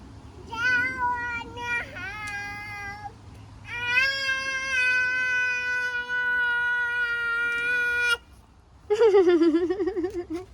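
A house cat meows several times, long drawn-out tonal calls with pitch bends, clear and close, followed by a shorter wavering meow after a brief pause.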